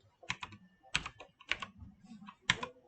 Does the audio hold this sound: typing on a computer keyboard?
yes